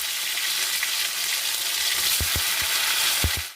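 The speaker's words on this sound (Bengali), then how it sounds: "ওই কড়াইয়ে আমি একটু তেল দিয়ে নিচ্ছি। জিরে আর তেজপাতা আর শুকনো লঙ্কা দিয়ে দিচ্ছি।" Cumin seeds, bay leaf and dried red chillies sizzle steadily in hot oil in a wok, with a constant close hiss and a few sharp crackles and spits near the end.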